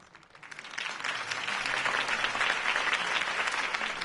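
Crowd applause in the video game Batman: The Telltale Series swells up after a quiet start and holds as dense, sustained clapping from many hands, fairly distant.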